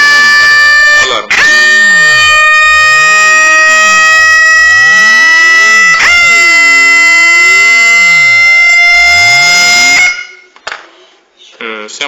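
A loud electronic alarm siren from a homemade NE555 timer circuit wails continuously, its pitch sweeping up and down in repeated cycles before cutting off near the end.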